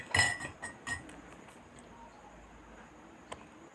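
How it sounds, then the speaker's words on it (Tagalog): A spoon clinks against a glass or cup while stirring hot calamansi juice with honey, giving a few sharp close chimes early on, then near quiet with one last faint tap. "At pagkatapos ay halu-haluin."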